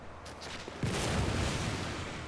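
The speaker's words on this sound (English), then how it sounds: "See, now what happened there is that one of the hunters down there has seen me. Okay. By that loud gunshot noise." A single loud gunshot from a hunter in a video game cracks out once, followed by a long rumbling decay under ambient game sound.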